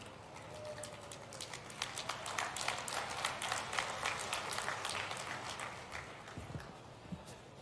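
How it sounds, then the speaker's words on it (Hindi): A crowd at a Ladli Behna conference in Harda applauds to welcome agriculture minister Kamal Patel, with scattered, fairly distant clapping that thickens into steady applause and then thins out. "जोरदार तालियों से माननीय श्री कमल पटेल जी का स्वागत करें।"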